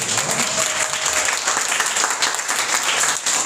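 Steady, dense applause from an audience at a church youth service, filling the whole stretch at an even level with no pauses.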